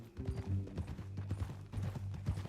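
A horse clip-clops in the video game Red Dead Redemption 2, its hooves beating a steady, fairly quiet walking rhythm over low tonal game sound.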